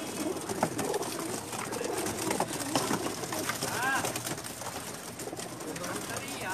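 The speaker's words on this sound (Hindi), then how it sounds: "ये कमगर कबूतर है जी, बच्चा है इनका घर का।" Kamgar pigeons coo softly amid a busy, noisy background on a rooftop loft in Jeddah, Saudi Arabia, with people talking nearby and a brief rising call partway through.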